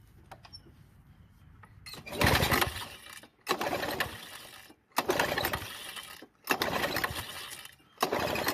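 A Toro commercial mower engine cranks over and over without catching: four or five loud, rough bursts of about a second each, separated by short silent pauses, with no talking.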